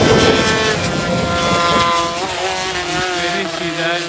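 Stock scooters racing at Pembrey circuit, one smoking with an exhaust issue, their small engines buzzing and rising in pitch as they approach, a loud continuous whine with shifting tones.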